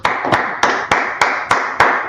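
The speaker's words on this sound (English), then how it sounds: "Let's clap it up for the Lord." Audience clapping in a church-like setting, seven sharp evenly spaced claps in a steady rhythm, close and clear with no talk.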